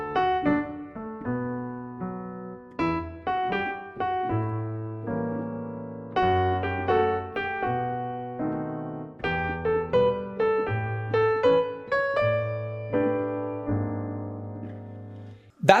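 A jazz melodic instrumental line played alone, swung as dotted eighth and sixteenth notes in an uneven long-short rhythm, notes clearly separated, a low accompaniment underneath, moderately loud and close.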